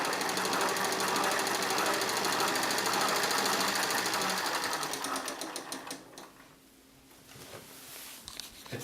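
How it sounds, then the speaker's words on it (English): A hand-cranked Prevost 35mm professional motion picture camera from around 1909, built in France, runs its mechanism with a fast, steady clattering whir close by, then slows and fades near the end before a brief resumption. "This is extremely well engineered and operates everything from this crank."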